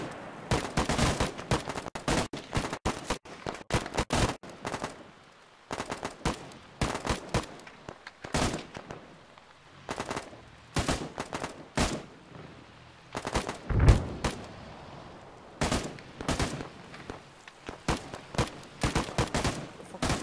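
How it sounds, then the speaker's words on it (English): Sustained machine gun suppressing fire and scattered rifle shots in an Arma 3 combat mission set in Afghanistan, with repeated loud bursts and short pauses throughout, mostly without speech. "keep the main area suppressed with MG fire"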